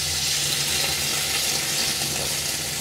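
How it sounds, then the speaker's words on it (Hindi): Water pouring into a cooking pot on a low gas flame while sweet daliya is being made, a steady broadband rush with a faint sizzle, close and continuous for a few seconds with no talk. "इसमें मैंने थोड़ा सा डालना है पानी"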